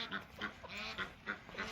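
Duck quacking repeatedly inside a barn, a run of short, evenly spaced nasal calls, fairly close and moderately loud, with no talking.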